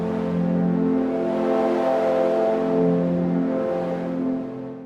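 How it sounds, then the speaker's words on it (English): A didgeridoo pad on the Polymer synth instrument drones as a sustained, buzzy low tone with rich harmonics, slowly swelling and shifting in texture over several seconds before easing off slightly; no talking. "I've got this polymer instrument over here that's loaded up the didgeridoo pad"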